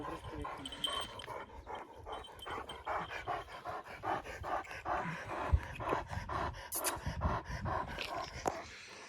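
A dog pants rapidly and steadily up close, quick rhythmic breaths continuing throughout, with a few faint whimpers mixed in.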